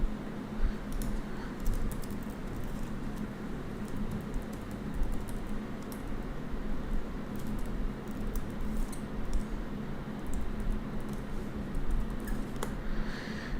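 Typing on a computer keyboard while setting up a Solana DEX crypto farming transaction, a steady stream of soft clicks and taps running continuously over a low background hum, no voices.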